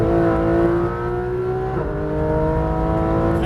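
Porsche 991 GT3 RS engine on a racetrack near Le Mans, a loud close engine tone that drops as the throttle eases off, then holds a lower steady hum.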